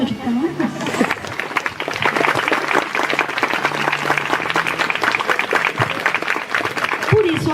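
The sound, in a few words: applause at a wedding ceremony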